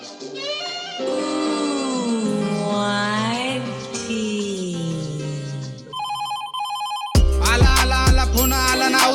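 A telephone ringtone sits within a music track: sustained melodic electronic tones give way to a pulsed ringing pattern, then a loud beat kicks in.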